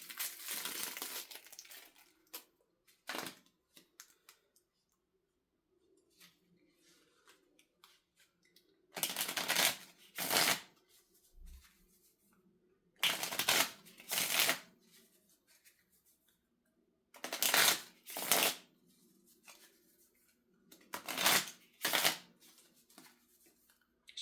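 A small deck of cards is shuffled close to the mic in several crisp riffling bursts, each a second or two long, with quiet pauses and faint handling noise between them.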